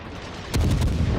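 A naval gun salvo fires from the light cruiser HMS Emerald in a warship video game. One loud, deep boom bursts out after a brief quiet and rolls on with a heavy low rumble.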